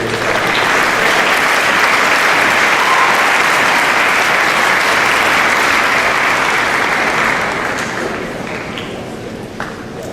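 Sustained applause from an awards-ceremony audience, dense and steady clapping filling the room for about seven seconds before thinning and tapering off toward the end.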